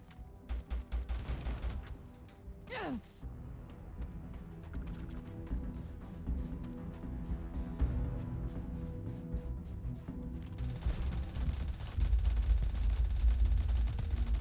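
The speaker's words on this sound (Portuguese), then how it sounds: "Essa aqui é a arma que explode alguns tiros." Gunfire from a weapon in the video game Starfield, a burst of rapid shots up front followed by a dense, continuous stream of loud firing and impacts that swells again near the end.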